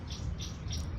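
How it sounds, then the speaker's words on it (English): Birds chirping outdoors, three short high bright bursts repeating at a steady pace over a low background rumble, fairly faint and distant. "You have to excuse the birds."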